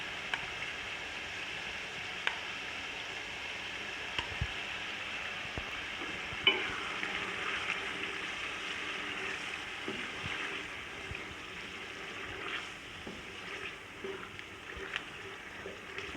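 Chickpeas and potatoes frying together in a pot, a long, steady crackling sizzle with scattered faint clicks of stirring throughout.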